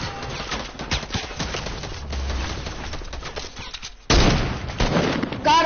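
Video game gunfire in a duo shooter match: a burst of loud, sharp shots near the end, after a stretch of quieter game noise and footstep-like clatter.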